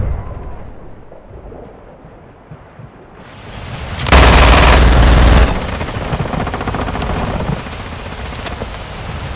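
Gunfire in a Call of Duty first-person shooter match, a dense burst of rapid shots and blasts lasting about a second, followed by sustained game noise with no talk.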